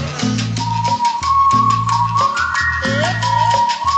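A whistled melody with sliding notes rides over a steady bass-heavy music beat, loud and up front.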